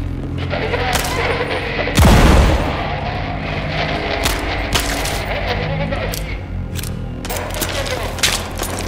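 Gunfire rings out in Kvark, a Half-Life inspired indie shooter: sharp scattered shots with one heavy, booming burst early on, then more intermittent cracks over background game noise.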